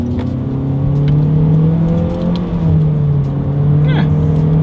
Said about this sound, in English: Let's test out these paddle shifters and see how quickly they react for us here.